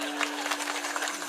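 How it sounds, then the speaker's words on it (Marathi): A kirtan crowd claps along in a brief, dense burst of steady rhythmic clapping that fills the hall. "महाराज म्हणले तो टाळ्या वाजवा"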